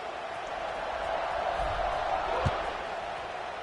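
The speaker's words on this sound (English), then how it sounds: "this crowd now ready to get behind them" A college football stadium crowd at Alabama vs Florida State just before kickoff, a steady dense roar of many voices with a couple of brief thumps, while a commentator talks over it.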